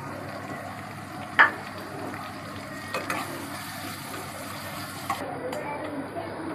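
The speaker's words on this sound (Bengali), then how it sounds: "আপনারা দেখতে পাচ্ছেন আমাদের পেঁয়াজটা হালকা হালকা ভাজা হচ্ছে।" Onions frying lightly in a pan give a steady, low sizzle, close by, with a couple of sharp clicks from a utensil; someone talks over the cooking.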